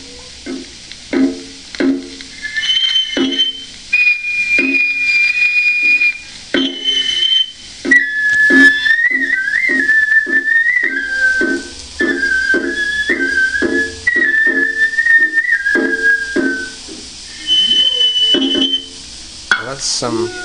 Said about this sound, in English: These are kind of mostly, I think, festival records, traditional Japanese sounds.